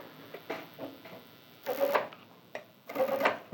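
A sewing machine stitches fabric for a double welt pocket in two short runs separated by pauses, close and moderately loud, with faint handling noises between the bursts.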